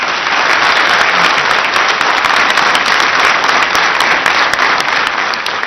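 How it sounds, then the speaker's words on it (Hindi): A studio audience at a televised Indian courtroom-style interview show claps loudly and steadily, a dense wall of applause holding at full strength throughout with no talk on top. "अगर उनको आपके जवाब पसंद आए, मैं आपसे कहूंगा आप तालियां बजाकर स्वागत कीजिए।"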